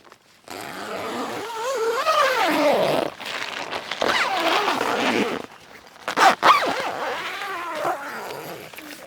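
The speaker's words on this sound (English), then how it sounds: "the front main entry door does zipper shut" A beach tent's front door zipper is drawn shut in long, rasping strokes, each pull pausing briefly before the next, close and fairly loud.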